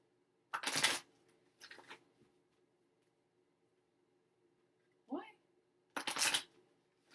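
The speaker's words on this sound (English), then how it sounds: "just going to pull the other cards" Tarot cards are shuffled and pulled in a quiet room: a few soft, brief riffling bursts separated by pauses, with a short faint voice sound in between.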